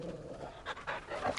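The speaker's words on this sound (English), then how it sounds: "I'm just gonna feed my dog." A dog in the video game Final Fantasy 16 pants in quick, breathy, rhythmic puffs, faint and close, with no talk over it.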